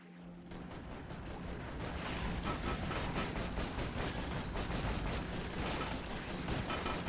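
Rapid gunfire from a shotgun in the sandbox factory game Factorio, a dense, continuous barrage of loud overlapping blasts that builds and holds steady for several seconds, with no talking.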